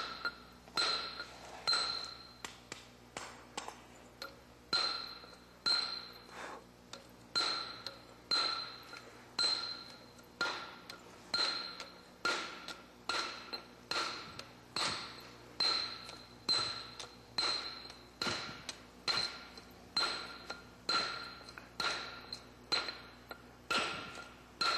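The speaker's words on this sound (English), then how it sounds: "you go back with a chipper now and just put a fine edge on it" Steady series of sharp, ringing metallic strikes as a chipper dresses a rock face to a fine edge during stone pitching, roughly one tap per second throughout, close and fairly loud with no talking.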